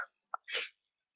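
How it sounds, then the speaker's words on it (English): A single soft, quiet sneeze from a person, a brief catch followed by a short breathy burst in an otherwise silent room. "I'm gonna sneeze again."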